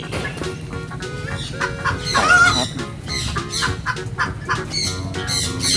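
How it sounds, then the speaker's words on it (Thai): Chickens cluck and squawk near a bird house at a Khao Yai attraction, with wing flapping and a brief crow, loud and busy under outdoor ambience. "อันนี้ไก่"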